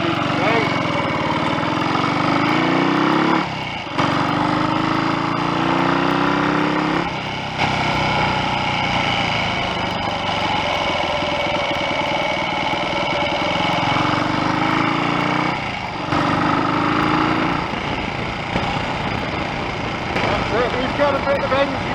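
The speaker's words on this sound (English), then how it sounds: "Definitely a rather tight engine this" A Royal Enfield 250 GT motorcycle engine runs steadily on a test ride, a buzzing mid-pitched drone with gear-change dips and wind noise, while a rider talks over it.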